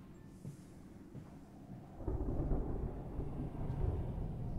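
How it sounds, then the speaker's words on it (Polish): Thunder in the video game Amnesia: A Machine for Pigs, a faint low rumble that swells after a quiet start and rolls on heavily, distant and muffled, with no talking. "To jest raczej grzmot pewnie."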